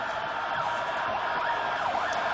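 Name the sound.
ambulance sirens blaring in Tahrir Square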